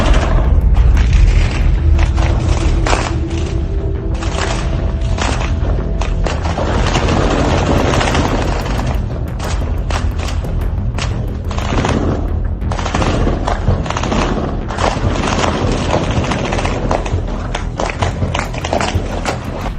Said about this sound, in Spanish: escuchó desde el interior de su casa el atronador sonido de un combate a muerte entre sicarios y elementos de la Guardia Nacional